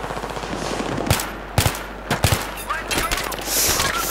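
Enemy gunfire in the Battlefield 3 campaign crackles at moderate distance, bursts of sharp shots spaced irregularly over a constant background hum, with a few louder close cracks mixed in.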